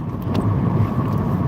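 A car passes close by on a road behind the driver, a steady, fairly loud engine and tyre rumble that lasts about a second and a half, with no voices.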